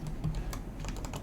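Row 4 keys on a mechanical keyboard are typed in quick, irregular clacks, close and clear with no talking.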